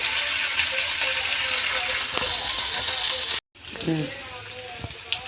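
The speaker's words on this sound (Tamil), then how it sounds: "அதில் ஒரு ரெண்டு மூணு பூண்டு போட்டுக்கோங்க அதெல்லாம் இதையும் போட்டு நல்லா வதக்குங்க" Garlic and adamant creeper sauté in oil in a pan, giving a steady loud sizzle that cuts out briefly, then resumes more softly with scraping stir sounds.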